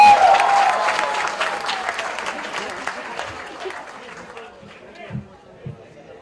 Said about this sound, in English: Can we have a round of applause for that cause?